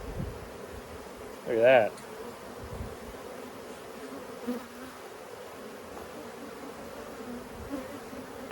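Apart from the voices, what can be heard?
honey bees buzzing during a hive cut-out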